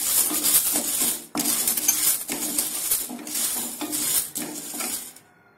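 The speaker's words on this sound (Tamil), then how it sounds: "இப்போ அடுப்புல ஒரு வாணலிய வச்சு இதுல இந்த கடலை பருப்பை நான் போட போறேன்." Chana dal poured into a dry, oil-free pan for roasting, bursts of rattling grain and metallic scraping against the pan in several close, loud sweeps, then quiet at the end.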